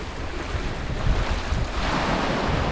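Ocean waves roll onto a white-sand beach in Grenada, a broad, steady wash of surf swelling slightly louder, mixed with gusty wind buffeting the microphone, with no voices.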